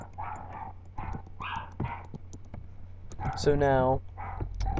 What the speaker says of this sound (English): please mind my dogs if you can hear them